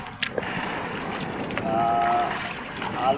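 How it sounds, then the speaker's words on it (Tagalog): Steady wind rushing over the open sea while out fishing on a small boat, a broad noisy roar that swells midway, with a few brief knocks and a thin whistling tone. "At nagsimulan na naman ang hangin guys."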